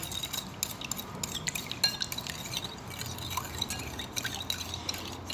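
Sugar being stirred into a coconut sticky rice mixture: steady wet swishing with light clinks and drips against the container, close and continuous, with no voices.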